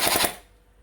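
An HK416D gel blaster with full blowback fires a quick burst of rapid shots, loud and close. The sharp, rattling reports then fade out within half a second.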